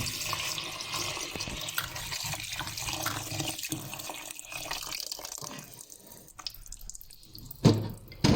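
Fresh strawberries are rinsed under a running kitchen tap, water splashing steadily into the sink and over the fruit with small drips and shifts in flow, ending with a brief louder clatter.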